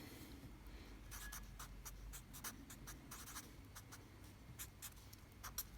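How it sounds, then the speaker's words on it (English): A pen writes a short math substitution line on paper, giving quick scratchy strokes in an irregular rhythm, close and faint with no talking. "So I can write a little substitution line."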